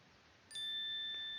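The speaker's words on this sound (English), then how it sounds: "ring the bell buttons for the next notification" A bright notification bell ding sounds once, a clean ringing tone that sustains alone without any talk.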